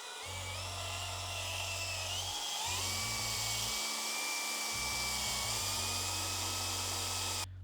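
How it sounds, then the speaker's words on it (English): A power buffer works over scuffs and scratches in the paint of a 2007 Ford Mustang Shelby GT500, whining steadily at close range while its pitch dips and rises as the pad is pressed and eased. "I'm gonna go ahead and do a little bit of buffing on this area to go ahead and remove the minor scuffs and scratches in the paint"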